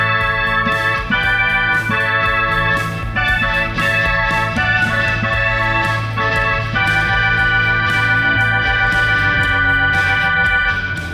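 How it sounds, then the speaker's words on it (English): A Korg SV-1 organ plays sustained chords with a fast rotary effect and spring reverb, its bright swirling tone continuous and fairly loud throughout, with no voices. "what we're going to be using to record the organ is this Korg"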